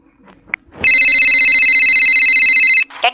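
A loud electronic phone ringtone plays a steady, bright tone for about two seconds, clipped and close, after a brief short beep and before a short sound at the end.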